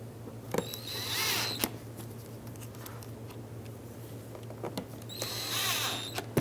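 Power driver snugging T20 screws on the front bumper cover of a 2013-2020 Nissan Pathfinder, two separate bursts of whirring at close range, one near the start and one near the end, with faint handling clicks between them.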